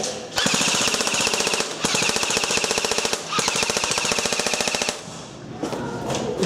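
Airsoft gun firing full-auto during an indoor airsoft game, loud rapid bursts of evenly spaced mechanical shots in three long strings, then a few scattered shots and faint voices.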